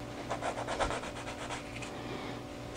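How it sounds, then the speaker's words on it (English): A lure carved from a wooden paintbrush handle is sanded by hand, giving close, rhythmic scratchy rubbing strokes that fade to quieter scraping. "I just need to kind of sand it back by hand until I get down to the lines on that"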